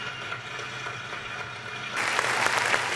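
Canned applause sound effect played during an NRL end-of-season awards chat, starting as a faint bed of clapping and then swelling louder about two-thirds of the way through, with no voices over it.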